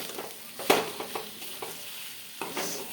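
Taro stolons (kochur loti) sizzling in a pan while being stirred and sautéed, with soft scraping strokes at irregular intervals over a low continuous fry, close and moderately quiet.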